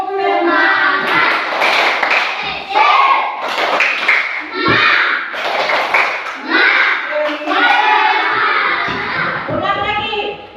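A class of children stands and performs the 'tepuk semangat' spirit chant, rhythmic hand claps landing between loud shouted chanting, close and energetic, with a teacher's voice also talking.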